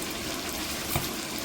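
Water poured into a pot while cooking biryani over a clay stove, a brief steady gushing splash that stays even throughout, close and moderately loud.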